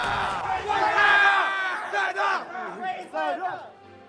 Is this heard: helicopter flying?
no